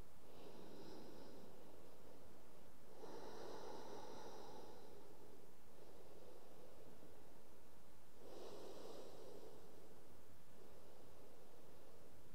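Slow, deep yoga breaths during a Kapinjalasana flow come as three long airy inhale-exhale cycles, close and breathy, each swelling and fading over a faint background hiss.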